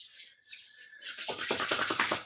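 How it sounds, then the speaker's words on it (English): Two hands rub together in a brisk, close back-and-forth friction sound during a relaxation exercise, soft at first and then a steady run of scratchy strokes. "give yourself a little hand rub"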